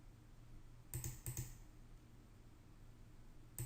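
A password is typed on a computer keyboard, a few soft clustered key clicks in two brief bursts over quiet room tone.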